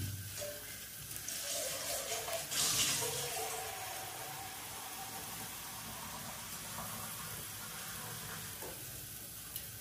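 Water is poured into a hot cooking pot of vegetable curry with potatoes, producing a broad hissing sizzle and splashing that swells early and then settles into a steady simmering hiss.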